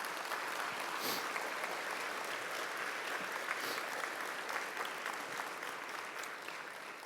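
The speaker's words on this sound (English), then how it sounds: "You deserve a round of applause." Sustained applause from family and friends at a police academy graduation ceremony, steady and dense clapping that fills the hall throughout before easing slightly toward the end.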